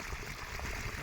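Water pours into a bottle being filled, a brief, steady rushing trickle heard close by.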